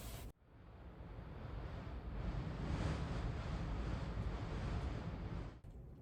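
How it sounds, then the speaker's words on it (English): Steady, roaring wind of a blizzard buffets the stone walls of a Scottish mountain shelter at night, a continuous broadband rush heard from inside that swells midway and holds, with no voices. "you can hear the wind against the stones outside"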